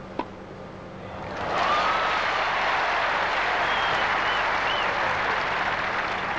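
Tennis crowd applauding at the 1977 Australian Open final between Roscoe Tanner and Guillermo Vilas, a steady dense wash of clapping that swells in after a sharp ball strike and holds loud for several seconds without talk.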